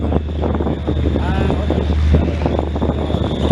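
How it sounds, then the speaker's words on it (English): The MTU diesel engine of a Leopard 1 tank rumbles continuously with a deep throbbing drone, mixed with wind buffeting and mechanical clatter. "You're listening to an MTU diesel there in the back of our Leopard 1 tank"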